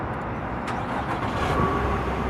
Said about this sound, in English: hold in the start-stop engine button until you hear the engine kick in